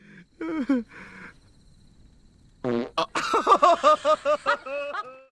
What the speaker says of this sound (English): Then it's time for a little belching party.